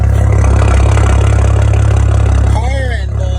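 A BMW with an N54/N55 engine idles in a driveway on a cold morning after a coolant fitting replacement, a steady loud rumble close by while someone talks over it.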